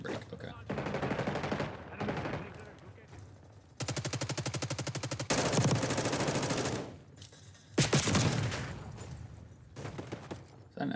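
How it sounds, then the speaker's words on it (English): Rapid SMG bursts crack out in a shooter video game, several dense volleys of automatic fire separated by brief pauses, loud and close in the mix. "Is that an SMG?"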